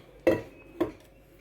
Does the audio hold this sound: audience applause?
no